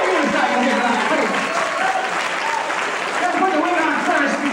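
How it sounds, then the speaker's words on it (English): Sustained audience applause at a 1996 retirement party, dense and steady throughout, filling the room at an even level with crowd noise mixed in. "Can we get a round of applause for this man at his age to be doing a unicycle here tonight?"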